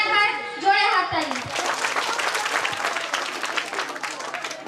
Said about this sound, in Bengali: ওর জন্য একবার জোরে হাততালি।